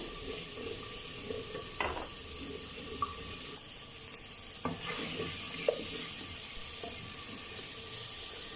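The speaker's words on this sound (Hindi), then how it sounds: "अदरक लहसुन की खुशबू आने तक हम इसे फ्राई करेंगे।" Ginger and garlic fry in a pan for a dhaba-style chana dal, a steady faint sizzle broken by occasional stirring scrapes and light clinks, with no talking.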